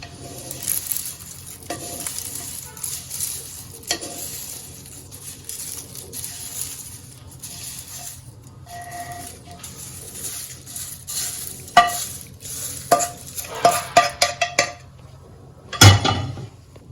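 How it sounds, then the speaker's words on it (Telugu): Metal utensil scrapes and clinks against a pan over a faint sizzle as curry leaves are stirred in the hot pan, with sharper knocks clustering toward the end. "ఇప్పుడు ఈ వేడి మీదే కొద్దిగా ఇంగువని కూడా ఇందులో కలుపుతున్నానండి"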